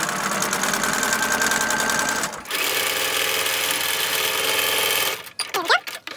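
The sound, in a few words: sewing machine sewing quilt strip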